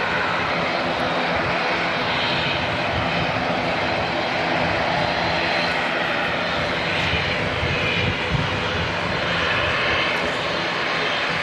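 A Jetstar airliner departs Auckland Airport, its engines roaring steadily and loudly throughout with a broad, continuous rumble and no break or pause.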